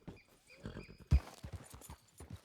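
Hooves clip-clop at a walking pace with a sharp thump partway through, a horse sound from the video game RedM with faint background tones.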